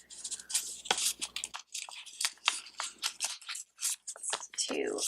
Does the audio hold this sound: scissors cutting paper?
yes